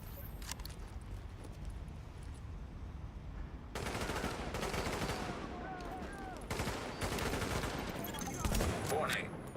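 Gunfire in the video game The Division, rapid bursts of shots at moderate level with quieter stretches between, some voices in the background.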